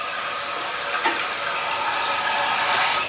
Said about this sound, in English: We'll just want to flush it here to make sure the chain doesn't get hung up